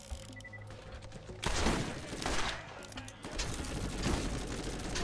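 Rapid automatic gunfire in the Borderlands video game, a near, loud stream of crackling shots that starts abruptly and keeps going in bursts over a low game hum, with no voices.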